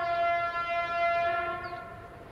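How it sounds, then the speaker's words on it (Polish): A train horn sounds loud and sustained, a steady multi-tone blast that holds for about a second and a half before slowly fading as the train passes. "i tak głośna jak ten pociąg"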